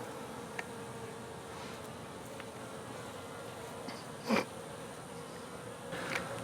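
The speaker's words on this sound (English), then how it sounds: "Lots of bees." Honey bees buzzing around stacked 8-frame hive boxes, a steady close drone of many insects with a few individual bees zipping past loudly near the listener.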